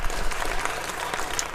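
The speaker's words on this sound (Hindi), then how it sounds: "तालियां।" Audience applause during a health talk on narcissism, a short burst of dense, even clapping from a seated crowd, full and close from start to finish.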